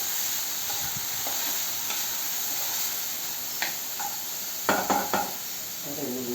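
Ariti puvvu (banana flower) cooking in a little oil in a pan, a steady soft sizzle with occasional stirring scrapes and clinks, close by and alone.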